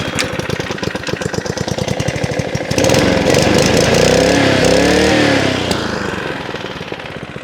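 A small engine idles with a fast, knocking putter, then its revs climb and hold at a louder, smoother whine before easing back down as the throttle cable is pulled and released.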